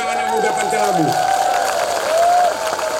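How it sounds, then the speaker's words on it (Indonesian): A crowd at a Tabligh Akbar religious gathering in Pantai Labu applauds the young people, a loose wash of clapping and cheering beneath a sustained tone, with talk mixed in. "Tepuk tangan untuk anak-anak muda Pantai Labu"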